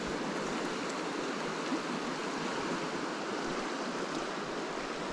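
A mountain stream current in the Appalachians pours past in a steady, dense rush of water, near and unbroken for the whole stretch, with no talking.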